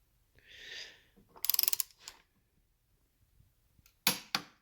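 A torque wrench tightening a left-hand thread on the gear chest of a 1956 Harley-Davidson FLH engine, giving a quick run of ratcheting clicks and, near the end, two sharp metallic clicks, close and otherwise quiet.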